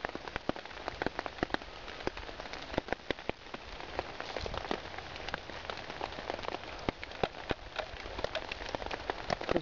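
Rain pattering steadily at an outdoor campfire site in the wild, a dense crackle of drops hitting the ground and gear, close and continuous with no talking.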